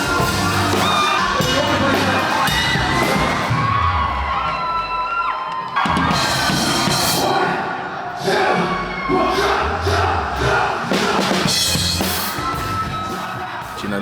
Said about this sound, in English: the crowd reacts to that as well